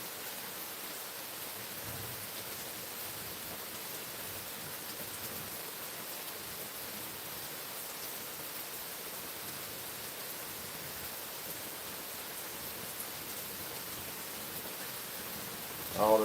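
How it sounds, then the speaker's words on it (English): Steady rain falls on a rainy Sunday morning, a constant even hiss of dense droplets with no pauses, moderately faint and with no voices. "Listen to the rain."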